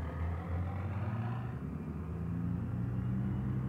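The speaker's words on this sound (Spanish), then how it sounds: "el camión suena que flipáis" A heavy truck engine in the video game BeamNG.drive rumbles steadily at a low pitch, droning without a break and gradually shifting in tone.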